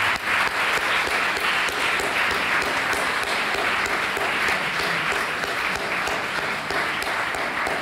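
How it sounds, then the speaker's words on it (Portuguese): A church congregation bursts into sustained, dense applause, many hands clapping loudly and evenly for the full stretch without a break. "Vamos aplaudir o Senhor por isso."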